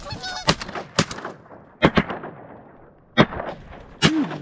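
Shotgun blasts at incoming geese during a goose hunt from an off-grid cabin: several sharp, loud shots spaced irregularly, some in quick pairs, with goose honks calling in between and outdoor ambience.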